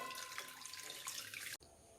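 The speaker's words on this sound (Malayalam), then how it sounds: "ഇനി നമുക്ക് ഇതിന് മുകളിൽ കുറച്ച് പച്ചവെള്ളം ഒന്ന് ഒഴിച്ചു കൊടുക്കണം." Fresh cold water pours steadily over cooked noodles for chicken noodles, a continuous close splashing stream that stops abruptly near the end, leaving a quieter hiss.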